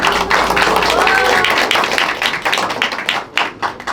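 Dense, loud applause from an audience welcoming guests at an election campaign office opening ceremony in Korea, many hands clapping steadily and then thinning into scattered, uneven claps toward the end.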